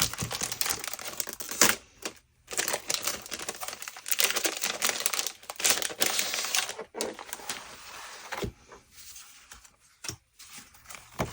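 Paper add-on pack from a scrapbooking kit being unboxed, with repeated crinkling and rustling of paper and packaging close by, broken by a few brief pauses, no talking.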